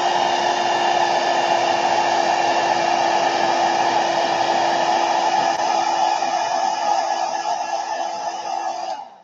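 Hair dryer blowing on a gelli plate print, a loud steady whine with a strong constant tone, close up, running alone for about nine seconds before cutting off at the end.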